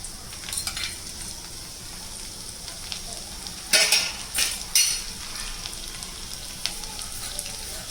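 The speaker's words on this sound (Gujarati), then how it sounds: "અહીંયા અમે લસણના ટુકડા કરી અને વઘારમાં મૂક્યા છે" Garlic pieces tempering in hot oil in a kadai, a continuous close sizzle broken by a few louder stirring scrapes and spoon clinks around the middle, with no voices.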